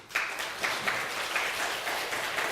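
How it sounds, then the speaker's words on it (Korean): A church congregation applauds during a Sunday worship service: dense, even clapping from a large group that fills the room, sustained and fairly loud from start to finish. "우리 하나님께 영광의 박수를 드립니다"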